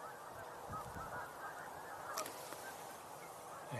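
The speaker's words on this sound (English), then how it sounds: "I hear a lot of goose vocalizations." Geese honk at a wetland where wigeon and gadwall gather, a steady chorus of calls fairly far off over broadband outdoor noise, with one brief sharper call near the middle.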